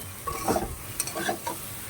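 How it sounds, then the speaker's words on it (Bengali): Potatoes for a vegetarian aloo dum are stirred and fried in a pan, with a soft sizzle under a few scraping strokes of the spoon, close up and with no voices. "এবার এটাকে ভালো করে কষাই করে নিতে হবে, ভেজে নিতে হবে"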